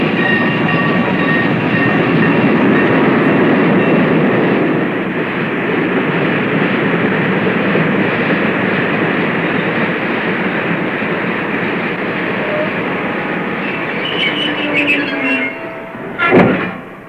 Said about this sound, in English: Then you hear the train start off,